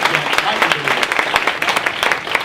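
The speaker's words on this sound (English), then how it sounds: "Please, a round of applause for our panelists one more" At a GDIB Seattle launch event, an audience claps for the panelists in a short, steady burst of applause with some voices mixed in.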